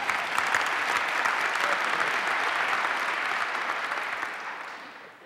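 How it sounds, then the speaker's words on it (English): Sustained audience applause at a ribbon cutting for the Palladium, broad even clapping that holds steady and then fades out toward the end. "He deserves special applause"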